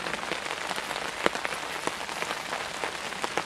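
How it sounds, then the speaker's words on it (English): Steady rain falls through woodland in the afternoon, a dense even patter of drops on leaves and surfaces with a few louder single drips, continuous and fairly close throughout. "don't really want to get a cold from being out in the rain"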